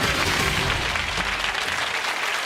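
Steady, close studio audience applause on a BBC lottery game show: many hands clapping in a dense, even wash that softens slightly toward the end.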